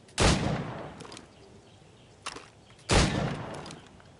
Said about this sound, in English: Shoot these targets.